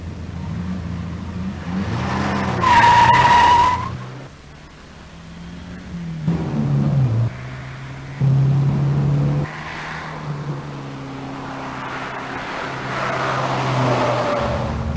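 A turbocharged 1985 Ford Mustang driven hard on a racetrack, its engine revving up and down through gear changes with rising and falling tones, a loud burst around the third second and quieter stretches between, with no talk.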